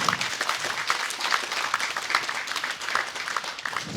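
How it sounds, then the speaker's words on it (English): A crowd at an evening event applauds frontline workers, with dense continuous clapping that holds at a steady level throughout. "Can we give them an applause?"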